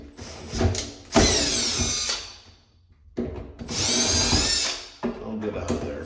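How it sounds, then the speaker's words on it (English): A power drill or driver backs screws out of a door hinge in two loud bursts of whirring, separated by brief pauses and clicks of handling, close to the microphone. "Let's go ahead and remove the screws."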